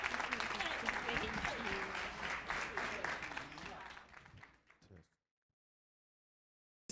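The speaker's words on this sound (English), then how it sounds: "So let's bring our sister back on with a warm, warm round of applause." An audience claps at a Day of Empathy event, steady applause with some talk mixed in, thinning out and cutting to silence after about five seconds.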